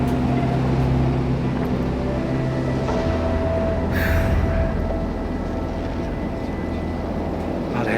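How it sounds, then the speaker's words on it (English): A bushfire firestorm heard from a distance as a constant low roar like a far-off jet or train, a dense rumble with a faint hiss and a brief rise in the middle. "You could hear the noise. It sounded like trains or jets coming towards you in the distance."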